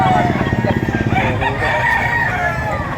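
Repeated rooster crows ring out close by at a busy chicken market in Lipa, over a dense backdrop of clucking fowl and crowd murmur.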